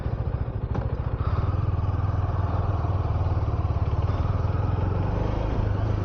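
A KTM motorcycle runs steadily while being ridden, its engine giving a continuous, even throb close to the microphone with a faint rattle, and no talk over it.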